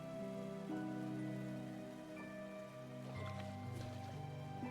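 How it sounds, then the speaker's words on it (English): Steady rush of running water in the game Stone to Space, a continuous soft splashing wash beneath sustained musical tones, moderately quiet throughout. "Now I'm hearing running water."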